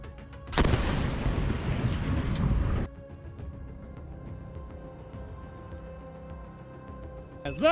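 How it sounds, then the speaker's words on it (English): A Geran drone strikes a temporary field camp, setting off a sudden loud blast that roars with dense rumbling debris for about two seconds before cutting to a quieter low hum, with a sharp sound near the end. "The powerful explosion destroyed equipment and inflicted casualties among the personnel present"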